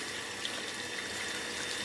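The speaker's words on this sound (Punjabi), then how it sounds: "ਆਪਾਂ ਇਹਦੇ ਵਿੱਚ ਭਰਤਾ ਹੈ ਪਾਣੀ" Water pours steadily from a tap into a tub filling for a blanket wash, a continuous close hiss with no talk over it.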